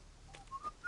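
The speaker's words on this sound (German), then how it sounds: "Wieder schöne Pfeifen." Short melodic whistling in the video game The Witcher 3: Wild Hunt, a few brief rising tones that come out clean and fairly faint, with no talk over them.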